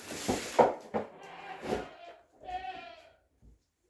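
A young farm goat kid screams for other goats, with several loud, ragged bleats in quick succession followed by a fainter short call.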